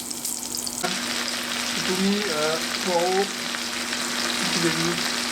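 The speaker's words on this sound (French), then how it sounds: "Là, ça fait des petits bruits là qu'on aime bien là. Ça grésille." Steady frying sizzle of leeks, onions, garlic and carrots in a pan with some stirring, while a person speaks briefly in French over it.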